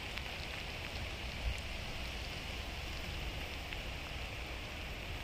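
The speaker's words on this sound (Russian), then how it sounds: "Дождь идет." Steady May rain falling outdoors in a garden under an overcast sky, a continuous close hiss of drops on surfaces with no talking and an even, unbroken level throughout.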